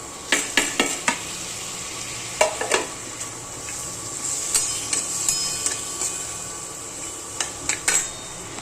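Tomatoes and potatoes going into a pan of masala and being stirred, heard as a light sizzle under repeated sharp clicks and scrapes of a spoon against the pan.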